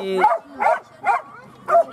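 A hunting dog on a wild boar hunt in the Solok hills of West Sumatra gives four short, close barks with yelping, whimpering edges, evenly spaced with brief quiet gaps between them.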